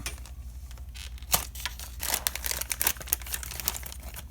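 A plastic bag holding a 1/24 scale 1986 Pontiac 2+2 NASCAR model car body crinkles and rustles up close in irregular bursts as it is unzipped and opened, with no talk.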